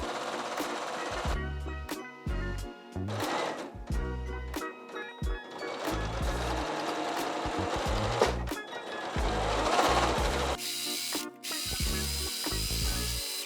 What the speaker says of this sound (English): as I sew this seam here